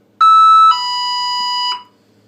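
A Menvier M800 alarm system sounder gives a loud two-tone beep, a higher pitch dropping to a lower sustained tone, then stops.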